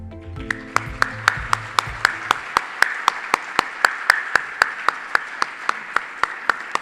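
An audience at a State of the City civic event claps in steady unison to honor police officers, producing a strong rhythmic beat of sharp claps about three per second. Low, fading music sounds at the start.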